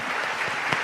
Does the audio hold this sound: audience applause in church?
yes